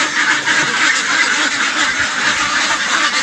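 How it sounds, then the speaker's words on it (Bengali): Farm ducks being released in a crowded, noisy flock, a dense continuous chorus of close, loud quacking throughout. "সব হাঁসগুলো ভয় পাইতেছে"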